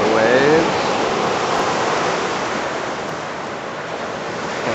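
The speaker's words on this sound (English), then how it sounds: "sound of the waves," Ocean waves break and wash steadily along the shore in a continuous, loud roar of surf with some wind buffeting, while a voice speaks briefly at the start.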